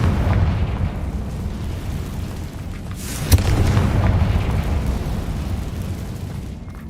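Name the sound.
Confringo fire spell explosion from the video game Hogwarts Legacy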